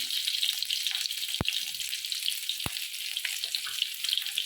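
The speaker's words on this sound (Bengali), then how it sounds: "কড়ার মধ্যে আমি সর্ষের তেল দিয়ে দিলাম দুটো শুকনো লঙ্কা দিয়ে দিলাম" A couple of dried red chillies fry in mustard oil in a wok, making a bright, steady crackling sizzle close by, with two sharp clicks of a utensil against the pan.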